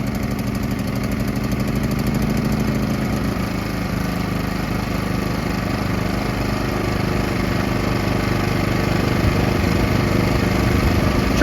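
A PowerSmart portable generator runs at full throttle after warm-up with the choke pushed down, giving a steady, even engine drone that holds at the same level throughout with no talk over it.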